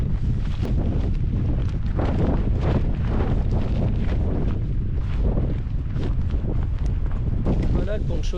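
Strong wind buffets a microphone outdoors on a hike along the Crozon peninsula, a loud continuous rumble with gusty swells throughout.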